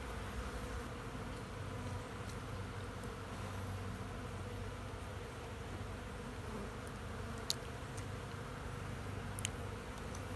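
Honey bees robbing at hives in winter, a constant dense buzzing drone from many insects nearby with a couple of faint sharp ticks, no voices.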